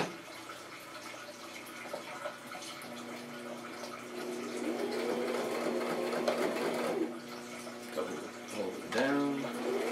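Sewing machine whirring close by as it stitches a handmade handbag, the motor hum steady and rising in the middle, then easing off toward the end. Light background noise sits underneath.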